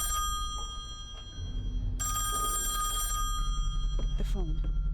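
A telephone rings in the horror video game Song of Horror: a bright, trilling bell sounds once for about a second over a low droning hum, with a person talking at moments.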